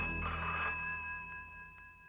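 A telephone in an indoor scene from a Hindi crime serial rings with a single electronic trill, fairly faint, then fades with no voices over it.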